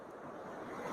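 Pacific Ocean surf at Gold Beach, where the Rogue River meets the sea, a brief steady wash of breaking waves with some wind, close and continuous.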